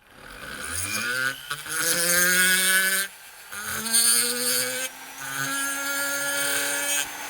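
A rotary tool spins at raised speed, working a part of a 1911-style pistol. It gives a close, whining motor tone that rises and falls in pitch over several short passes, separated by brief dips.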